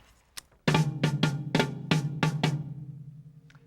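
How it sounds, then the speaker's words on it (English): Drum kit pattern trading hits between toms and double bass drums: a soft stroke, then a loud run of about seven evenly spaced, punchy drum hits with booming low resonance. They are close and played alone, and the sound decays at the end. "the sort of melodic call and answer thing that I did between my toms and my bass drums"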